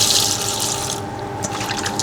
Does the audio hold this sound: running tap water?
yes